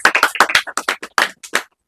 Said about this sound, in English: Give a big round of applause for him and all the team members.